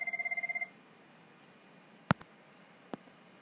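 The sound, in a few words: telephone ringing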